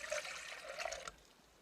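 Water from a cup pours into a cooking pot at an outdoor mountain campsite, a soft splashing trickle lasting about a second before tapering off, fairly quiet.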